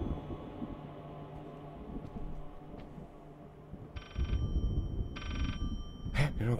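An old-style telephone rings inside the horror video game Layers of Fear, two loud electric bell bursts about a second apart, each roughly half a second long, over a low murmuring game ambience.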